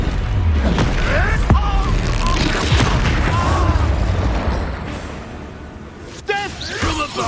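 Expulso spells in Hogwarts Legacy burst as booming explosions, several in quick succession with whooshing magic and combat noise, while a voice shouts spell names over the fight.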